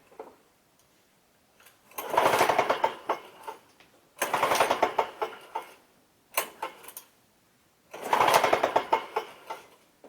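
A Lawn-Boy C21ZSN commercial mower cranks and sputters in three rough bursts, each lasting a couple of seconds with brief quiet gaps between, loud and close, never settling into a steady idle.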